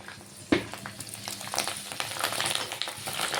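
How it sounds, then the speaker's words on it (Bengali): Papad deep frying in hot oil, a sudden sizzle as it goes in followed by steady bubbling crackle and light stirring, close and moderately loud. "সিম্পলভাবে আমি পাঁপড়ে ভেজে নিচ্ছি"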